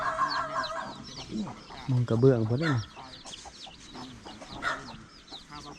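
Chickens and ducks cluck and squawk in a farmyard coop where hens lay eggs, with several bursts close by and at moderate volume, mixed with people talking.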